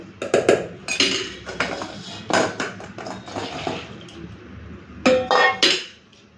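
Soaked soybean chunks strained from their water in a kitchen, heard as irregular bursts of metallic clinks and clattering of a strainer and pot, close by, with quieter gaps between them and no talk.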